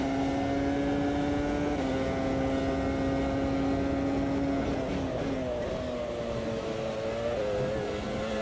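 Steady, high-pitched whine of a 1995 Renault Formula 1 engine in the racing game Automobilista, holding a near-constant tone with small pitch drops on gear changes and slight dips through corners.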